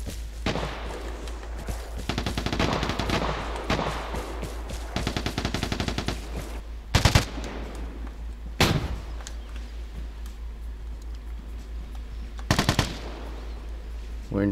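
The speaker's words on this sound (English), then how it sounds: "this guy's just running around shooting" Rapid automatic gunfire from a light machine gun in the online shooter Vigor, with long sustained bursts early on, then a few isolated loud shots and short bursts against a steady background hum.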